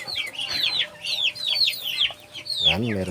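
Native chickens cluck and squawk in quick repeated bursts close by, with one louder drawn-out call near the end; no talk.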